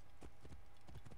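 Horse hooves in the video game Assassin's Creed Origins, a quiet run of rhythmic clip-clop footfalls on hard ground at a steady trotting pace.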